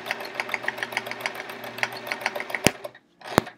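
A home sewing machine does swirl free-motion quilting on a Charming Chevrons quilt, with close, rapid needle stitching in uneven bursts, then a brief pause and a few final clunks.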